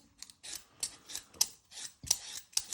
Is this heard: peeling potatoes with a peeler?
yes